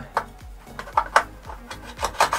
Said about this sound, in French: Alors cette petite poignée type Tango Down, on va tout simplement aussi dévisser.